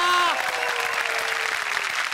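A studio audience at a Marathi comedy show bursts into loud, sustained applause just after a short musical sting fades, with dense clapping continuing steadily.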